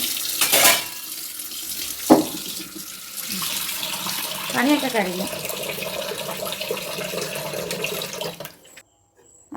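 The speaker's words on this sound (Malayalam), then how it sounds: "സാമ്പാറിന് കടുക് പൊട്ടിച്ച് ചേർത്ത പാത്രം മാത്രം നമുക്ക് കഴുകാനുള്ള" Tap water runs while a pot used to temper mustard seeds for sambar is washed in a kitchen sink, with splashing and clatter throughout and a person talking over it.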